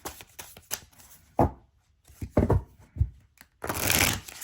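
Tarot cards shuffled by hand in bursts of riffling and tapping, with short pauses between, close and fairly quiet, ending in a brighter flurry of card noise.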